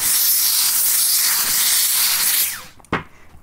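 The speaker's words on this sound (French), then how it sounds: "On remet un coup de vapeur." A steam jet blasts onto a felt hat being shaped, a loud close hiss that runs steadily for over two seconds, then cuts off and leaves a brief clunk and faint handling noises.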